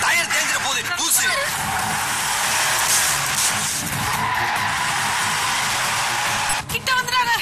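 Vehicle turning sharply on a dusty road with a loud, sustained tyre skid and screech over engine noise, close and continuous, with people talking throughout.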